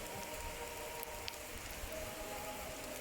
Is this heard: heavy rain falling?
yes